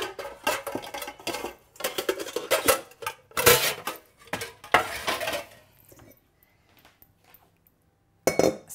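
Kitchen bowls being handled and swapped for a bigger mixing bowl, sharp ceramic clinks and clatters arriving in quick bursts, then a quiet pause before one last knock.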